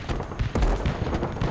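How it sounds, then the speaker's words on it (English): Mortar fire in the real-time strategy game Broken Arrow: a few heavy booming blasts with low rumble over a busy battlefield din, the strongest thump in the middle, fairly near and loud. "Oh, that's a mortar shot."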